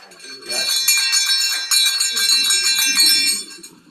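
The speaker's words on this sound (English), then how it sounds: "you should be able to hear the most beautiful sound coming from the bell" A bell said to come from Santa's sleigh rings in quick repeated jingles, bright and shimmering, sustained for several seconds with a faint voice or movement underneath.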